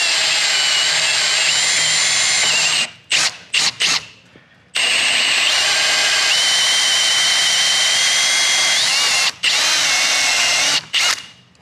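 A power drill with a Forstner bit bores a hole through Formica, a loud, close, high-pitched whir running in long bursts broken by several short stops and restarts.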